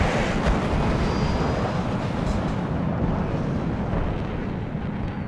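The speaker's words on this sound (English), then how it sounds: "Su-25 got shot down. And unfortunately there goes down our MiG." A MiG jet goes down in the Cold War strategy game Warno amid a dense, roaring rumble of battle noise and explosions that fills the whole stretch at steady loudness, with no voices.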